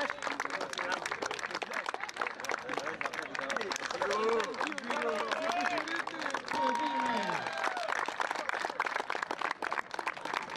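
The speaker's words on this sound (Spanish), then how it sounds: "Fuerte el aplauso." Rapid clapping from a group at an under-14 awards ceremony, mixed with excited voices calling out over it, lively and continuous.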